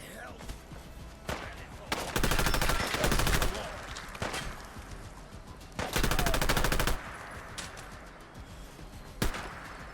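Companion Arthur firing in Fallout London, long bursts of rapid automatic gunfire alternating with single sharp shots, loud and close, with a voice talking in between.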